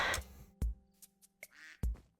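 Ducks in the farming game Sunlit Valley quack in several short, separate bursts, close and clear against faint game music.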